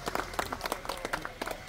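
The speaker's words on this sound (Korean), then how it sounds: "박수로 모시겠습니다." Scattered applause from a small audience at a Korean memorial ceremony, sparse, uneven claps rather than a full ovation, fairly quiet and brief.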